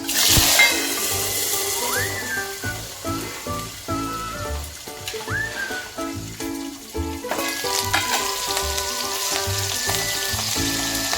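Garlic, curry leaves and chillies fry in hot oil, giving a loud, continuous close sizzle and crackle with occasional stirring scrapes.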